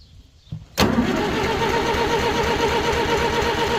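An International Harvester B275 tractor engine, missing fuel to one injector, cranks over with a sharp onset and then holds a loud, steady, rhythmic chugging for several seconds, heard up close with no talking.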